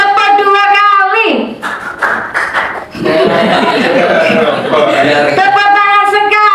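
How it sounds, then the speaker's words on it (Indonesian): A group of Indonesian teachers claps hands in quick short bursts following a called count, several sharp rhythmic claps then a longer sustained patter, between spoken instructions and some chuckling. "Tepuk 2 kali."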